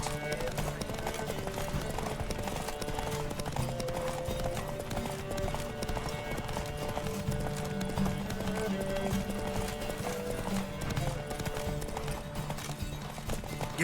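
Horse galloping in the video game The Witcher 3, a rapid, continuous clip-clop of hooves over game music, with faint voices at times.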